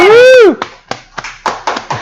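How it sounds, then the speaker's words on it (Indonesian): Audience at an electronics-store auction gives a short burst of clapping, a series of sharp separate claps following a sustained vocal exclamation. "Kasih tepuk tangannya dong."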